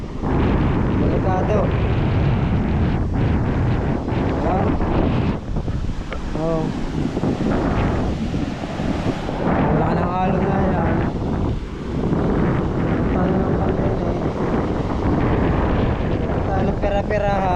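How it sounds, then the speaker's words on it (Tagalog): Strong wind buffets the microphone while sea waves surge and crash around a small boat on rough water, a loud, constant roar with people talking intermittently underneath. "nakakatakot pang umuwi pag ganyan ng alon, so parang lulubog yung bangka, delikado"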